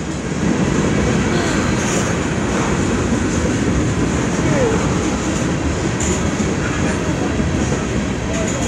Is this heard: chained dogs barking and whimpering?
no